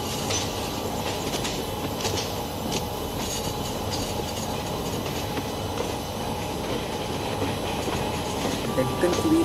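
Deccan Queen passenger train of Indian Railways pulling away on the main line, with a continuous loud rumble of wheels and carriages and some faint rhythmic clatter, heard from on board with talk mixed in.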